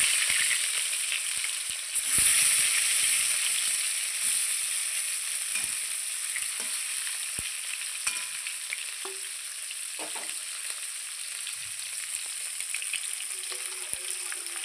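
Pieces of fish sizzle steadily in hot mustard oil in a wok, a continuous bright crackle with occasional soft clinks and taps, with no voices over it.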